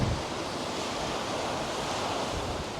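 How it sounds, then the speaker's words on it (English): Constant wind blowing hard across a beach, a dense steady roar of rushing air and buffeting against the microphone, with the surf blended into it. "kind of tent walls put up to stop the constant blowing wind"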